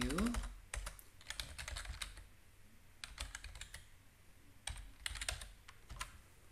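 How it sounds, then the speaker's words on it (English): Computer keyboard typing, close and quiet: several bursts of quick key clicks separated by short pauses, with faint talking in between. "Just type in TradingView."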